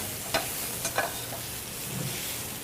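Sausage browns in a frying pan for a frittata, giving a steady, close sizzle with a few sharp pops and light stirring scrapes over the crackle.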